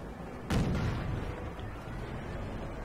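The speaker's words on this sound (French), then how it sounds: "Attention, feu lourd." Heavy artillery fires in the Company of Heroes video game, with one sharp, loud booming blast that rolls off into a lingering rumble over constant background noise.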